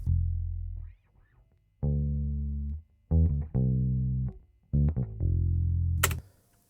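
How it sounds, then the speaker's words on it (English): Bass guitar recorded through two microphones with no processing, playing a few separate sustained notes and short phrases with gaps of near-silence between them, loud and close, alone with no other instruments. "So this is the sound of the bass, both microphones without processing."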